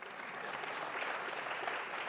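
An audience applauds at the 2017 Isaac Asimov Memorial Debate on de-extinction: dense, even clapping from a large crowd, held steady at moderate volume for a couple of seconds.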